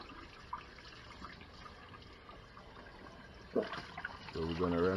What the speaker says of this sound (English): So we're gonna rinse it out, make sure it's nice and clean.